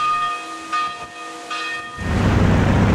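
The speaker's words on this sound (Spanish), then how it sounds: "En el pueblo, una campana avisa a la población." A village church bell rings out as an air-raid alarm during a Spanish Civil War bombing attack, with a few sustained metallic tolls heard at moderate loudness before a broad rumbling roar takes over.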